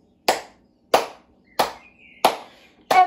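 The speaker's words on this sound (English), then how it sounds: "we're going to start with some clapping" Five sharp, clear hand claps sound in an even, unhurried rhythm during a children's music class, each with a short decay into silence.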